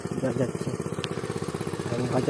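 Engine-driven water pump running in a village, a steady chugging medium engine with a fast regular thumping pulse, close and fairly loud, with a voice speaking over it.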